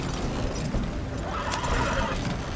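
A horse neighs and whinnies in the Red Dead Redemption 2 game world, heard steadily throughout amid hoof clatter and ambient outdoor noise with no talk.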